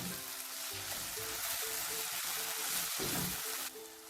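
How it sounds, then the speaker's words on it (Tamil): Ginger garlic paste sautéing in a pan for potato rice, a steady close sizzle and crackle of frying that runs continuously throughout with no talking. "இஞ்சி பூண்டு பேஸ்ட் பச்சை வாசனை போகிற வரைக்கும் வதக்கணும்."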